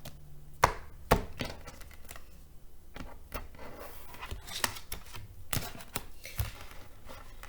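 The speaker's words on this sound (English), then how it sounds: "I'm just going to go ahead and cut the deck." A deck of tarot cards is cut and handled during a love reading, giving several sharp, separate card snaps and taps at close range over a quiet room, with no talking.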